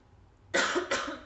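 Two quick, harsh coughs in close succession, loud and near, after a moment of quiet.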